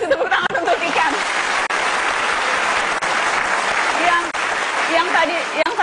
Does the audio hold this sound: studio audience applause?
yes